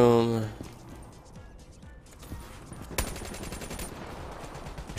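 Black Ops 3 firefight, rapid bursts of automatic gunfire and scattered shots crackling fairly faintly and at a distance, broken by a louder sharp report, with a voice heard briefly at the start.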